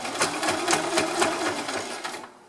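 Quick bursts of a sewing machine stitching a seam on a fabric lunch bag, several short rhythmic runs close by, ending in a brief stop.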